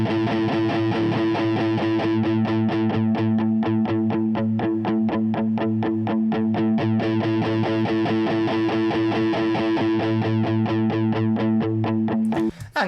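An electric guitar runs through BIAS FX 2 Mobile with heavy distortion, playing a sustained chord under rapid rhythmic pulsing and a flanger-like oscillating sweep, loud and continuous for about twelve seconds.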